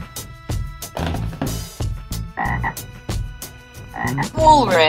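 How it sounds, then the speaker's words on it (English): A frog croaks in a quick, regular series of loud, close, throaty pulses, with no voices present. "Frog."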